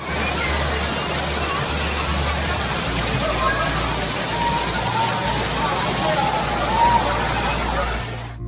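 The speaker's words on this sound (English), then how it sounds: "these violent thunderstorms, which some officials are actually describing as being a 1 in 200 year rainstorm event." Dense, steady rush of heavy rain pouring down in a violent thunderstorm in Southeast Queensland, continuous and loud throughout, with splashing water and a faint murmur of voices underneath.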